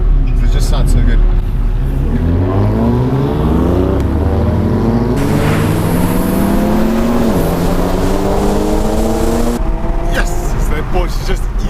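A Porsche GT3 accelerates hard and loud from close by, its engine climbing through several rising gear pulls with a brief shift break, under occasional excited voices.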